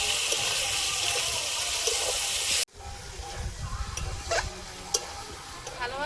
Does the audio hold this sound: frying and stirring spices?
yes